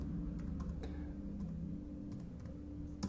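Typing on a Bluetooth keyboard produces soft, scattered key taps at a quiet level over a low steady background hum, with no one talking.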